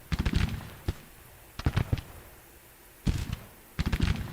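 Scattered musket volleys from skirmishers in Grand Tactician: The Civil War, heard as four separate bursts of rapid cracks at a moderate distance, with quieter gaps between them.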